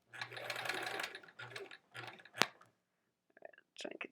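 A home sewing machine stitches quilt rows in short bursts of rapid whirring, with brief pauses between runs and one sharp click partway through.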